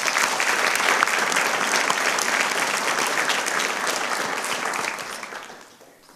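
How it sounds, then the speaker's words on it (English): A crowd at a school district board meeting claps loudly and steadily for several seconds for student winners, and the applause fades out toward the end. "Let's give them all another round of applause."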